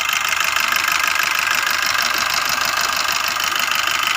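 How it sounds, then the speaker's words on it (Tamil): Maruti Suzuki Swift engine idling after a full engine assembly, running close and loud with a steady, even rhythm and no voices. "இப்போ பார்த்தீங்கன்னா அந்த ஷிஃப்ட்டோட இன்ஜினை நான் ஸ்டார்ட் பண்ணிட்டேன்."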